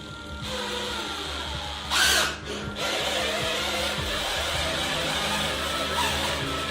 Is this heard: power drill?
yes